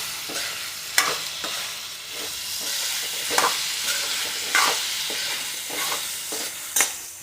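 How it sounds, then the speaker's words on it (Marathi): Peanuts dry-roasting in a pan for a guar bean and potato dish, a steady frying crackle broken by sharp scraping stirs at uneven intervals, close up with no voices. "हे बघा शेंगदाणे भाजले."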